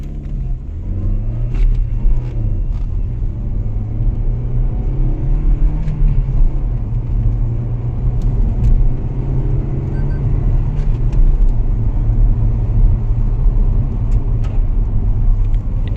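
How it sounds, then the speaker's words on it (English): Compact SUV accelerating hard from a standstill toward 100 km/h with air conditioning and traction control switched off, a steady, loud cabin engine drone with rising pitch and gear-shift dips, heard from inside the car. "Let's see how it will perform and in how much time it will reach 100 km power."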